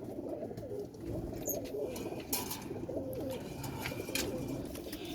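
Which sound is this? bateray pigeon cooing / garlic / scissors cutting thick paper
bateray pigeon cooing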